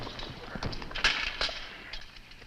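Horses' hooves clip-clop in a few uneven, moderately close beats over a soft background hiss, a brief run of hoofbeats from a western adventure drama.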